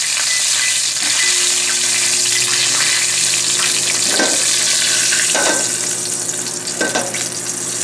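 Bronzino fish fillets fry in light olive oil in a pan, giving a steady, loud sizzle that runs throughout with a few brief scraping and clattering touches near the end.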